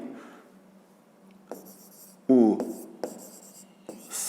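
Chalk or marker writing on a classroom board, with short scratchy strokes and sharp taps, one louder squeaky stroke in the middle, close and fairly loud, while a teacher talks quietly underneath.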